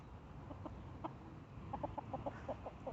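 A bantam rooster gives soft, quiet clucks in a short series of low, close calls, with more of them toward the end, over a faint background hiss.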